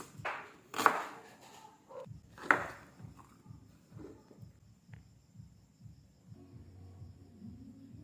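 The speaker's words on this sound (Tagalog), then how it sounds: "Slice tayo onion." A knife slices onion on a board with a steady run of soft, rhythmic thuds, near and fairly quiet, after two louder knocks at the start. No voices are heard.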